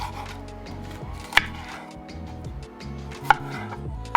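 Fresh tomatoes chopped with a sharp knife on a board, soft slicing strokes with three sharper knocks against the board, close and fairly quiet, no voices.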